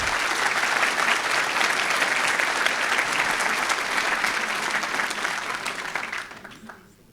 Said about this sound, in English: let's give them a round of applause there.